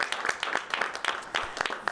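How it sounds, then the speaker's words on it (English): Audience applause breaks out on a live talk show, a dense wash of clapping with overlapping sharp hand claps throughout, mixed with some voices. "That's something to clap for."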